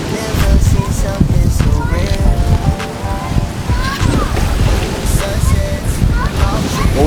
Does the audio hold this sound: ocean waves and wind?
yes